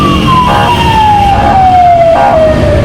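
A loud ambulance siren close by on a street in Venezuela, one long tone sliding steadily downward in pitch over road noise.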